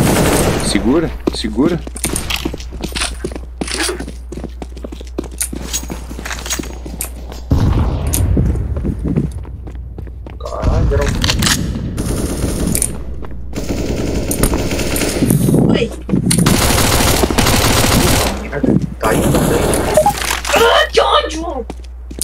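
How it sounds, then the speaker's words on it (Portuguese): In Counter-Strike, an AK rifle fires at a wall in rapid bursts of loud automatic gunfire, repeated in several volleys while players talk over the shooting. "A AK é mais forte que a M4. Testa aí na parede, pode atirar na parede."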